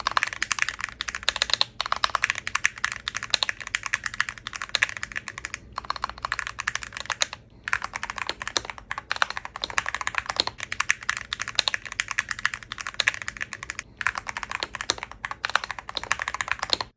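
Steady, fast typing on a DrunkDeer G65 mechanical keyboard in an aluminum case, a dense run of crisp clacks with a few brief pauses, close and fairly loud with no voices.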